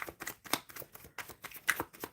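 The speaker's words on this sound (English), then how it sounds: "let me shuffle for you, Aditi." Tarot cards being shuffled by hand, a run of soft papery riffles and flicks in an uneven rhythm, close and fairly quiet with no talk over them.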